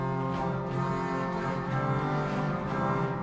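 The 16-foot trumpet stop of the Hinsz organ in the Bovenkerk, Kampen, Netherlands, sounds alone as a deep, buzzy reed tone, loud and sustained with moving notes, ringing through the church with no voices.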